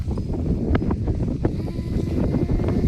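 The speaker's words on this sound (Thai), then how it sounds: "เบิ่งนี่ก็เสียงลมนะพี่น้อง" Strong wind on the Mekong riverbank roars and buffets against the microphone in a constant low rumble, with scattered rattles and rustling clatter on top.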